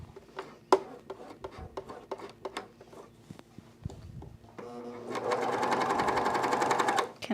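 A sewing machine hems Glissando pants: a few light clicks and taps of handling come first, then the motor runs in a steady, close whir for about two seconds.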